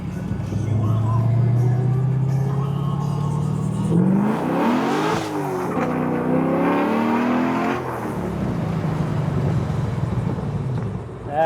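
A 480 HP V8-swapped NB Miata accelerates hard to 70 mph, its engine note rising through gears with a sharp dip at a shift, then revving back up loudly from inside the car.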